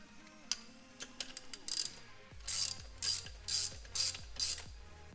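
A ratchet tightens a BMW spark plug, its pawl clicking in a close series of short bursts, first a few scattered clicks and then about six steady, evenly spaced cranks, loud and alone.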